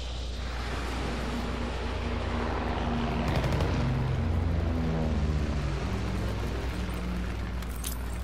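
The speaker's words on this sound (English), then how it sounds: "Low altitude bomber inbound. Incendiary mission commenced." Incendiary airstrike in Call of Duty WW2, a low-altitude bomber dropping its load in a steady, dense roar of rumbling explosions and fire, with a low drone and scattered tonal game effects running throughout.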